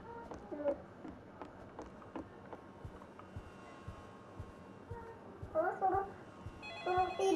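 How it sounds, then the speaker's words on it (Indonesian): A telephone in a Roblox home game rings in a few short electronic bursts toward the end, faint beneath low background noise and game sounds. "Oh ada telepon guys."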